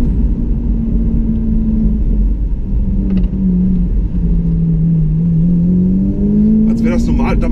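A Lamborghini Aventador heard from inside the cabin, its engine a deep, steady rumble that swells slightly in pitch toward the end, with a few brief knocks and clatters over it.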